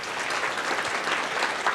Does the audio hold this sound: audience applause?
yes